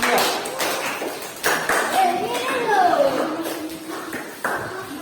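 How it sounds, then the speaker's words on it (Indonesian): Children in a primary classroom clap for a student group, scattered sharp hand claps mixed with a teacher's talking and kids' voices, bursts recurring through the few seconds. "Tepuk tangan buat kelompok"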